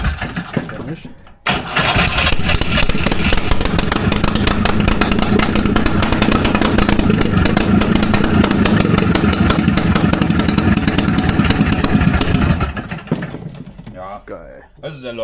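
A Trabant engine, first started in 50 years, starts with a sputter and revs up, running loudly and roughly for several seconds before cutting off abruptly.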